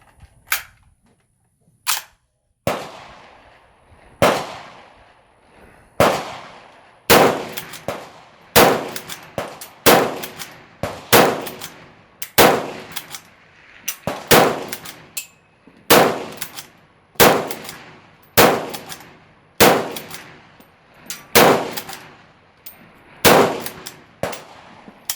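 Ishapore 2A1 rifle firing at steel targets outdoors, sharp loud shots spaced every second or two, some followed by a faint metallic ring, in a long irregular string.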